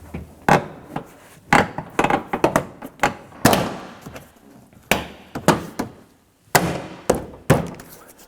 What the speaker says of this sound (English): Let's now go ahead and install the trim panel.